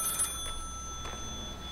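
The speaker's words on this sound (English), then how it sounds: "Oh, phone call." A telephone rings inside a video game, a short faint ring heard once near the start under steady background ambience with no voices.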